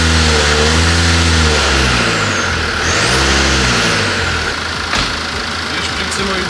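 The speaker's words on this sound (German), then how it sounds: "Ich gebe mal ein bisschen Gas." A Ford car engine that stalls while driving revs up as the throttle is pressed, a loud steady drone swelling in repeated rises and falls, with a brief knock near the end.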